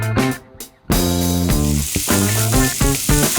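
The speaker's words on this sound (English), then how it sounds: "A little bit of brown sugar, just to make a little bit of caramel on top of the pineapple. We fry it a little bit and it's ready." Pineapple pieces with brown sugar frying in a pan to caramelize: a steady, loud sizzle runs throughout, with a few soft clatters and stirring sounds on top.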